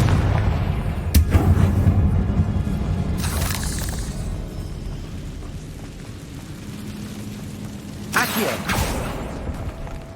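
A Confringo blast spell explodes in Hogwarts Legacy, giving sharp bursts with crackling, debris-like tails. Three distinct blasts land a few seconds apart over a low rumbling game ambience.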